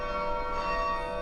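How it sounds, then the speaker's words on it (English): The Anzac bell rings in the Perth bell tower, a single sustained chime with a long shimmering resonance that hangs evenly in the air, alone and moderately loud. "This is the Anzac bell."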